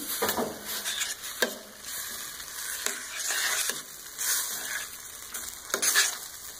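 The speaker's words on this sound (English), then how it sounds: "I'm going to start just by mixing this up, and you'll see it'll start to get a little bit creamy" Butternut squash cacio e pepe pasta being stirred in a hot pan, with a steady sizzle and repeated scraping, mixing strokes close by, running continuously with no talking.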